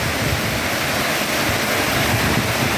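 Floodwater rushing along during a night of heavy rain, a loud, steady broadband roar with no breaks and no voices.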